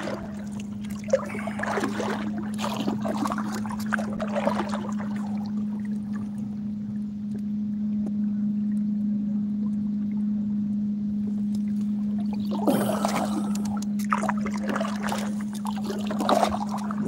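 A canoe or kayak paddled along a shoreline, with bursts of water swishes and dribbles from paddle strokes at the start and end over a steady low hum, no talk.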